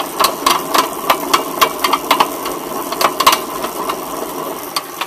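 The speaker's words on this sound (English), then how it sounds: "listen to the way this bike sounds" A used spin bike, amateur-built and only a few months old, makes a rough mechanical noise, with repeated clicking and knocking over a steady grinding hum, close and fairly loud with no talk.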